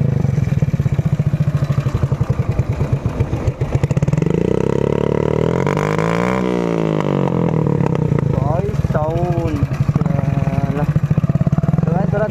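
Loud motorcycle with an aftermarket exhaust, first idling with a rapid, lumpy thump, then revved up and down several times in rising and falling swells before settling back to a close, throbbing idle.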